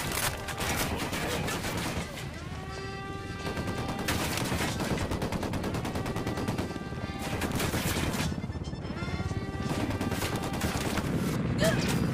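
Rapid bursts of automatic gunfire fill a firefight in the video game Ghost Recon Wildlands, with dense repeated shots and crashes running continuously over music-like tones and occasional voices.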